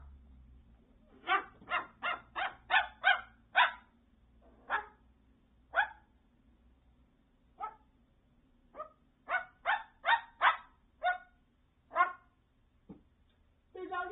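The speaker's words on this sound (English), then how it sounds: "Oh, there is a dog out there." A dog barks outdoors in irregular bursts, several quick barks in a row, then scattered single barks and another rapid cluster, moderately close and clear over a low steady hum.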